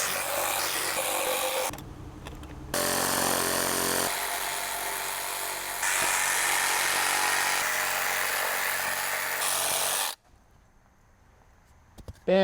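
Power saw ripping through a wooden beam on a DIY cabin foundation frame, a loud sustained buzzing cut that stops briefly and starts again, running steadily for about ten seconds before cutting out.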